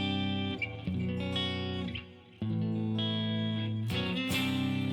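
A guitarist plays distorted electric guitar, sustained chords and riffs with heavy effects, loud and close, changing every second or so, with no voices.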